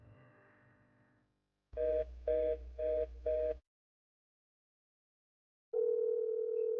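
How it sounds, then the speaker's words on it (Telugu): A phone call rings out with four short, evenly spaced tonal bursts of ringback tone, preceded by a fading tone and followed after a pause by a steady tone, all clear and alone. "రింగ్ అవుతుంది."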